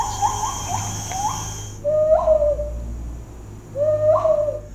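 Tropical lowland rainforest ambience in a preserve, with a steady insect drone beneath repeated low, hooting animal calls, near and fairly loud, no talking.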